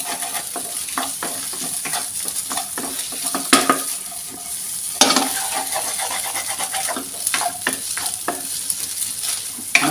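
A spatula scrapes and stirs fish fried rice with cabbage, carrot and capsicum in a pan over high heat, with a steady sizzle, repeated metallic clinks and a few sharper knocks against the pan.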